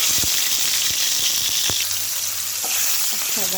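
Ginger garlic paste sizzling in a hot oiled pan for a tomato chutney, a loud steady frying hiss with a few clinks of a utensil against the pan.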